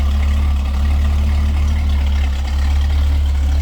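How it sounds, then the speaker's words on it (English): A 1967 Pontiac Firebird convertible's 400 V8 idles through dual exhaust, a loud, steady low rumble filling the whole stretch without talk. "Dual exhaust, a little rumble coming out of that"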